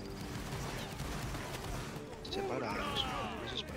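A scattered volley of musket gunshots in a Napoleonic Wars video game crackles at a distance, several reports overlapping, with voices murmuring underneath.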